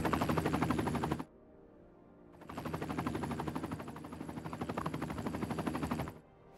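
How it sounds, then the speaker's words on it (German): Rapid rotor chop of a helicopter in the city-building game Cities Skylines 2, a loud steady pulsing thump that cuts out briefly and returns, then stops. "Oh, der Hubschrauber."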